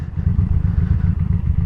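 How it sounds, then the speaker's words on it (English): A motorcycle slows with the clutch pulled in, its engine idling in a loud, close, rapid pulsing thump with a slight mechanical clatter over a short stretch. "So see, I got the clutch pulled in, I'm slowing down."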